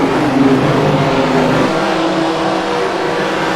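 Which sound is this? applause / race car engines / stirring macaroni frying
race car engines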